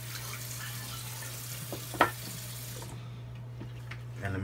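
Water from a tap runs steadily into a sink while a shaving bowl is rinsed out, a soft continuous hiss with a low hum beneath it and a single clunk midway.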